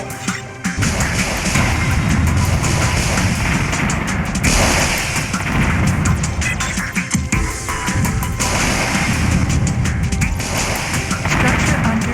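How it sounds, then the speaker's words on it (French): Heavy, sustained rumbling booms and blasts of artillery fire in the video game Warzone 2100 roll on continuously, loud and dense, with a voice speaking over the barrage. "Nous sommes pris par l'artillerie ennemie."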